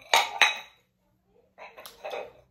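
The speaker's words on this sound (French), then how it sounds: "Donc 2 assiettes à dessert." Ceramic dessert plates with a leopard print clink together twice in quick succession. After a short pause comes softer handling and rustling.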